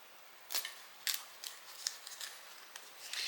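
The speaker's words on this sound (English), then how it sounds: "let me cut this extra part of the pocket off" Scissors cut off the extra pocket fabric on a leather bag in a series of crisp, separate snips spaced irregularly, close and clear against a quiet background with no talking.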